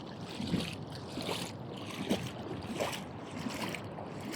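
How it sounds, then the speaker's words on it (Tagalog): Sea water moves along a shoreline with soft waves washing in and out, a continuous rushing hiss with a few gentle surges rising and falling. "Tubig yan guys, dagat."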